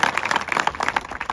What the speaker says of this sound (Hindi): चल जोरदार तालियां भैया इसके लिए